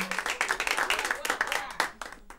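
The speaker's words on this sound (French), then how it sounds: "Applaudissements pour les déesses." A crowd claps for the goddesses at a ceremony in a drama series, brisk rhythmic hand claps with voices mixed in, fading toward the end.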